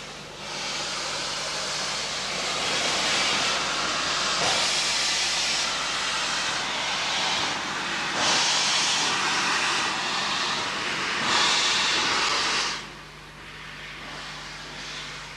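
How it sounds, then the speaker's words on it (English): LNER K1 class steam locomotive 62005 at work on the West Highland line between Fort William and Mallaig in summer 1987, a continuous roaring hiss and exhaust rush with faint swells, fairly distant, no voices. "We'll now follow the K1 on its journey from Fort William to Mallaig during July 1987."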